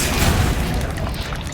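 An Incendio fire spell cast in Hogwarts Legacy, a loud, close burst of rumbling, booming flame with crackling texture that swells and then tapers off over about a second and a half.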